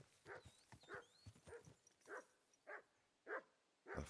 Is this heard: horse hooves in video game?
yes